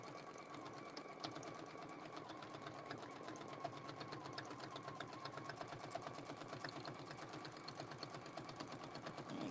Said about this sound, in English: So I'm just going to stitch all the way around.